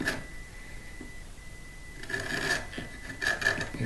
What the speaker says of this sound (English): you can hear that cutting in, and I'm just shaving in grain here